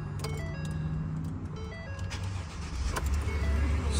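A Ford F-150 pickup truck engine starting, a brief starter crank followed by the engine catching and settling into a low idle, heard from inside the cab.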